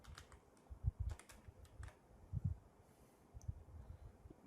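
Computer keyboard typing while editing PHP code, quiet clustered keystrokes in several short bursts with pauses between them, close and alone.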